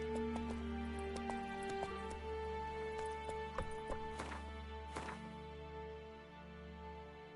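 Hooves of Geralt's horse Roach clip-clop in a steady rhythm in The Witcher 3: Wild Hunt, fairly quiet over a constant musical drone, with a few sharper thuds.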